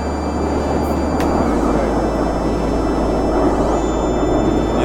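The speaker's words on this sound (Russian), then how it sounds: "Израильские истребители патрулируют границу, наверное." Israeli fighter jets patrolling the border over the desert near the Dead Sea in Israel, a loud continuous roar of jet engines heard overhead with no talk.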